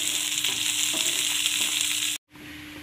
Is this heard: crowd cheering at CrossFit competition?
no